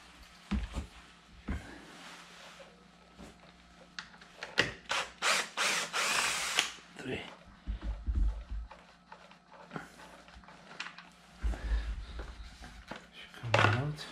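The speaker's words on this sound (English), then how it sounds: "Now let's remove three screws." Power tool removing screws from a Can-Am Ryker, short bursts of whirring drilling separated by pauses, with clicks and handling noises close by and a brief voice between them.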